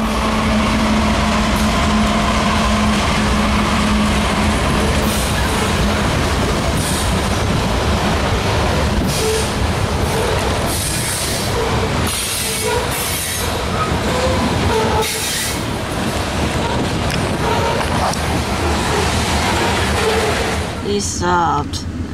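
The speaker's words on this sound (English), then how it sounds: "Now there's another train." A train rumbles past steadily and loudly, with a faint metallic squeal of wheels near the start and clatter throughout.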